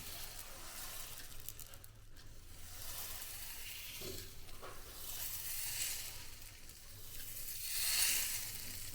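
Dosa batter sizzles softly as it is swirled outward on a hot pan over low gas, a steady faint hiss with gentle scraping swells and no voices.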